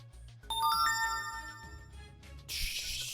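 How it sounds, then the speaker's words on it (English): A short electronic notification chime plays up close during a stream of the mobile game Fate/Grand Order, with a few bright tinkling tones followed by a brief burst of noise. "Fucking notification sounds."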